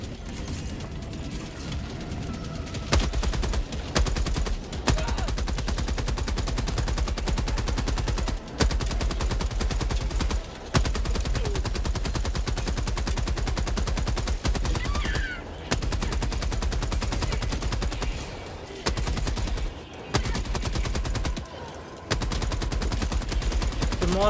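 Sentry turret in Helldivers 2 firing in long, dense sustained bursts of rapid gunfire, loud and close, broken by a few short pauses across the whole stretch.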